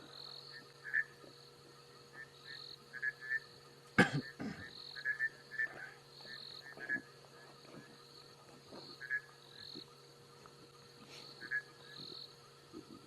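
Bushveld rain frogs calling at night in the African bush on a safari drive, short repeated chirping croaks scattered through the clip over a steady insect hum, with one sharp loud knock partway through.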